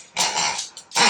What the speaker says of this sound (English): He's a guide dog in training, and we foster him.